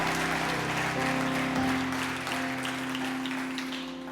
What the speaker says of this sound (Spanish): Alguien tiene que darle un aplauso a Dios esta mañana.